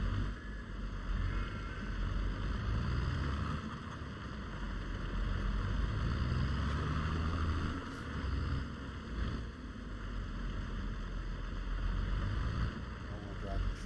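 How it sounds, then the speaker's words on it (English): A tractor in Farming Simulator 22 drives over ice and snow, a steady low engine drone beneath continuous gritty crunching and rustling texture, with faint swells of noise throughout. "Sounds like we're crunching over ice and snow"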